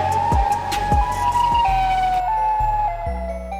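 Siren Head monster's siren call from a Poppy Playtime animation, a loud wailing siren tone sliding in pitch with low thumping hits underneath, heard alone without talk.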